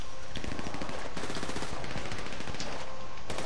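Rapid automatic gunfire crackles in dense bursts through a GTA 5 Online shootout, loud and close, with brief gaps between volleys.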